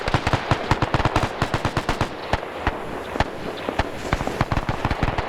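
Rapid bursts of gunfire crackle continuously in a World War II video game, sharp repeated shots at varying distances with no voices.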